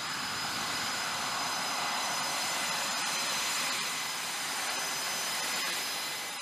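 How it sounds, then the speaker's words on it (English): US bomber engines keep running during hot pit refueling, a loud, continuous, even jet roar that fills the whole stretch with no pauses. "during the hot pit refueling, the engines of the aircraft remain running"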